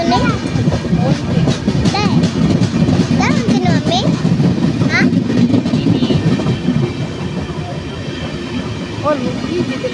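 A train runs steadily on the rails close by, with a continuous heavy rumble and rhythmic clatter, and people's voices chattering over it throughout.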